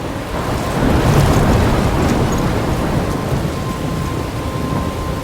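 Thunderstorm with heavy rain in Life Is Strange, a low rolling rumble of thunder swelling and fading over a constant loud hiss of rain, with no voices.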